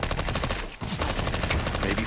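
Rapid automatic gunfire from a CS:GO match on Dust2 with SMGs like the MP5, dense continuous bursts with a brief gap, loud and close.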